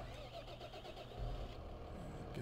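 A tractor engine starting in the farming game Farming Simulator 15 cranks and rumbles up to a steady running drone, loud and close, with no talk over it.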